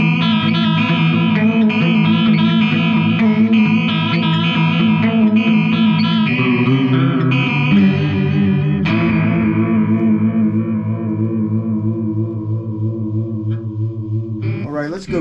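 Finger-picked electric guitar runs through an analog chorus pedal, producing a loud, continuous shimmering wash of notes with echo and a long fading ring at the end, no voices.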